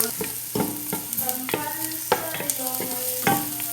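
Garlic sautés in a pan for arroz caldo, a close steady sizzle broken by repeated rhythmic scrapes and knocks of a spatula stirring against the pan.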